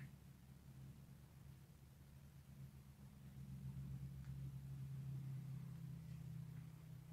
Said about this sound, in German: Die Autos, die man hört, sind auf der Straße, die direkt schräg gegenüber ist.